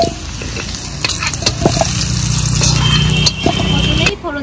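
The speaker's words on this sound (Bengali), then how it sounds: "আলুগুলো লাল করে ভেজে নিয়েছি, এবার নামিয়ে নেব।" Potatoes sizzle and crackle steadily in hot oil in a pan while being stirred and browned for shahi mutton, a close, continuous frying hiss with occasional clinks of a spoon.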